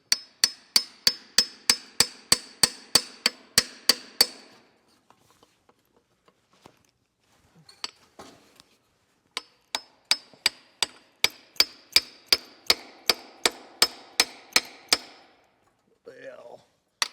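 A hammer pounds on a part of a barn-find Buick engine in two long runs of rapid, evenly spaced metallic blows, loud and close, separated by a quiet pause with a few faint taps.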